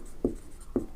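Two crisp taps of chalk or marker on a board as an answer is written out in a Bangla maths class on solving equations, close and distinct with a short pause between them.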